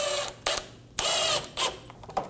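A bolt is driven and tightened beneath the front inner fender liner of a 2008-2015 Scion xB, with several separate ratcheting bursts of tool clicks spaced across a short span, close and moderately loud.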